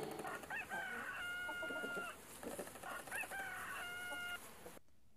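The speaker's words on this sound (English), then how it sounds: "H for hen" A rooster crows twice in long drawn-out calls, loud and close, with the second crow following a short pause before the sound cuts off.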